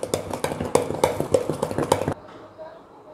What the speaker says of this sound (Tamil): இப்போ இந்த மாவை நல்லா கலந்து விட்டுறலாம்.